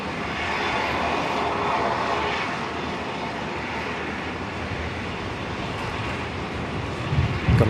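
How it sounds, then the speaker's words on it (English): A Pilatus PC-12 turboprop taxis across the runway at Brisbane Airport, a steady, fairly loud propeller and engine drone holding evenly throughout, with a brief rumble rising at the very end. "Got a little PC-12 about to depart, I think. Oh no, that's just arrived."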